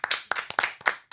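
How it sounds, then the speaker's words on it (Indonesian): Audience in a campus podcast studio clapping hands, a short burst of sharp, uneven claps from a small group, fairly close and loud, with brief gaps between clusters. "Tepuk tangan."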